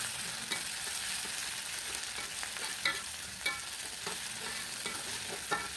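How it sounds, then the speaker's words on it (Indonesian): Eggplant and petai in balado chili paste are stir-fried in a pan until cooked, with a steady close sizzle and occasional scraping knocks of the spatula against the pan, and no voices. "ini tinggal ditumis aja ya semuanya sampai matang"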